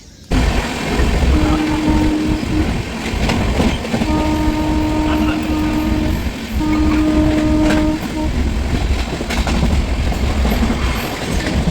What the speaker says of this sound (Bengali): চলো এবার ট্রেনে উঠবো